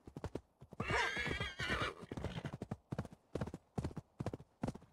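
In Assassin's Creed Valhalla, a horse whinnies loudly near the start while its hooves pound in a steady, rhythmic galloping clip-clop that carries on clearly to the end.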